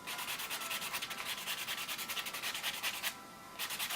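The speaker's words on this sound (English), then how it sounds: "you don't need to buff a lot. Just a little bit like this." A nail buffer rubs back and forth across a client's fingernails in quick, rhythmic strokes, close and soft, with one brief pause near the end before the buffing resumes.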